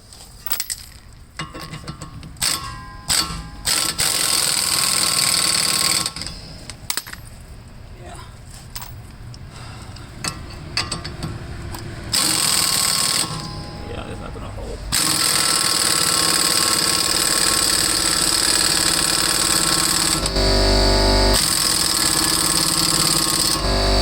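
A nut being driven onto a new wheel stud on a 2005 Pontiac Grand Prix, with loud, choppy mechanical bursts that grow into a long, continuous run of rattling power-tool noise.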